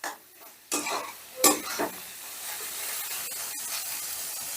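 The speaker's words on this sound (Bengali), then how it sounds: "গ্যাসের আঁচটা লোতে রেখেই করবে, তাহলে মশলাটা বেশ ভালো কষা হবে" Masala spices fry over a low gas flame in a pan, producing a loud close sizzle with a few sharp stirring scrapes and bursts of spatter, then a steadier hiss.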